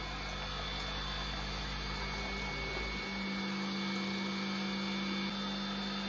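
A cream separator spinning as it separates raw milk from a family milk cow, a continuous motorised whine and hum with a tonal shift partway through and no talking.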